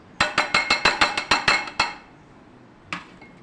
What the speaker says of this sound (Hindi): इसको खूब अच्छे से पीस लें, ज़रा कुटा कुटा रखिएगा, बहुत बारीक नहीं पीसना